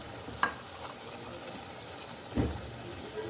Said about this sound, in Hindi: इसे अब मैं अच्छे से भून लूँगी